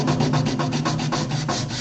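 Hand sanding along the edge of a square wooden oriental lidded bowl, a close, steady rasping rub repeated in quick back-and-forth strokes with no talking.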